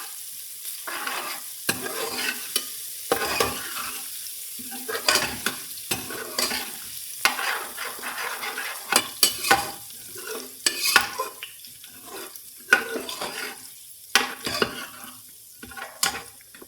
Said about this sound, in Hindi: अब लहसुन को गोल्डन ब्राउन करेंगे